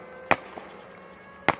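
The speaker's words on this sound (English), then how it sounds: "they brought some fireworks to the party" Two sharp, loud cracks sound about a second apart over a steady hum, fireworks going off at a sidecar race celebration at the Sachsenring.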